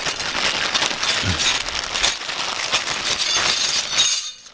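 Zinc-plated metal fuel line brackets for a Datsun 260Z clink and rattle against one another as they are handled, a busy run of bright metallic jingles close to the microphone.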